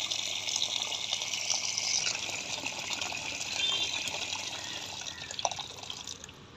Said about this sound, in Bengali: জাস্ট এই জল দিলেন, জল দিয়ে ভিজিয়ে রেখে এটাকে একটু সাইড করে রেখে দেবেন